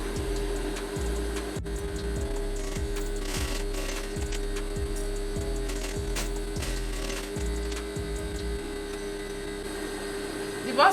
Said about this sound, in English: I'm going to sew the shoulder first